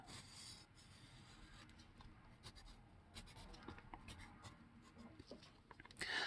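A pen draws a diagram of force components, giving quiet scratchy strokes and taps on paper in short irregular bursts, very faint and close.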